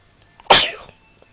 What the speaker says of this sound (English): Have allergy. Oh, bless you